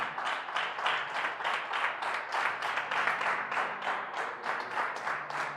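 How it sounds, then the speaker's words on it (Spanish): A church congregation applauds in a steady, dense rhythmic clapping that fills the room for several seconds, with faint voices underneath. "Dale un fuerte aplauso al Espíritu Santo."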